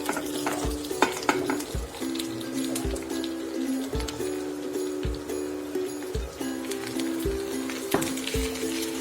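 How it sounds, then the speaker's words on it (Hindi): Chopped green chillies frying with garlic, ginger and onion in a pan for fava bean and potato sabzi, a steady close sizzle broken by regular spatula taps and scrapes about every second. "अब हम इसमें हरी मिर्च डाल देंगे कटी हुई। हल्का सा फ्राई करेंगे"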